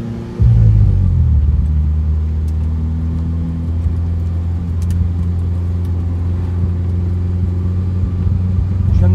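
An Alfa Romeo 4C engine idles with a deep, loud, steady rumble after a short rise at the start, settling into a low throaty burble.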